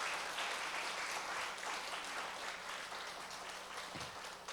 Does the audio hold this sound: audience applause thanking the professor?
yes